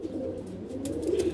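Madrasi pigeons coo in a low, steady murmur, close by and continuous, with a few brief brighter chirps near the end.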